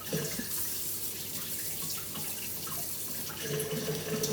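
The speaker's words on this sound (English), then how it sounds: "And I run it under the sturdy flow of the water." Kitchen tap running in a strong steady flow over ox tail meat being rinsed in a sink, a continuous close hiss of water with slight changes as the meat shifts under the stream.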